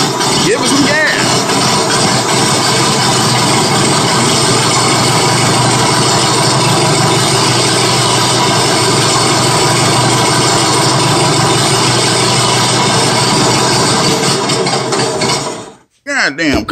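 An old engine roars loudly and continuously at high revs for most of the stretch, then sputters and cuts out briefly near the end before catching again.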